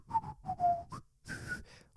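A man whistles a happy tune alone, with short bright phrases broken by brief pauses, close and clear.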